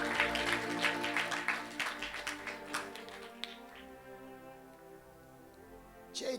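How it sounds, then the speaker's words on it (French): Church congregation applauding for Jesus at an evangelistic service, a dense burst of clapping that thins into scattered claps and fades, with a faint cheer at the very end. "Acclamez Jésus"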